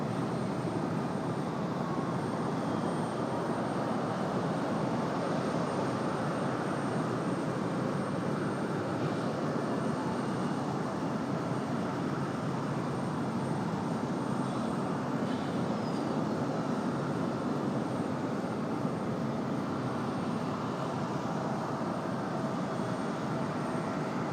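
A jet airliner takes off from runway 23 left at Raleigh-Durham International Airport, a steady, loud broadband engine roar holding evenly and close throughout.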